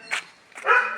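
A dog barks twice in quick succession at close range. The barks are short and sharp.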